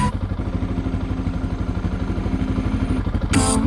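A Honda motorcycle engine runs close by with a loud, fast, steady pulsing beat and a rough mechanical clatter. A brief brighter burst of other sound comes near the end.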